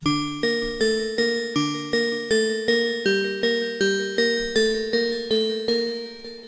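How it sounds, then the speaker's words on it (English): A trap bell lead synth from Halion Sonic SE FLUX wavetable plays a short repetitive motif: about sixteen bright, plucked bell notes in steady rhythm, each decaying quickly, loud and alone. "I'm using here for this bell motif."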